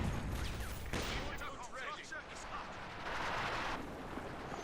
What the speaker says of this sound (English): artillery fire there against the Bofors, trying to silence it that way by a serious assault barrage